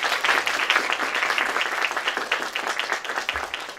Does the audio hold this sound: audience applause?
yes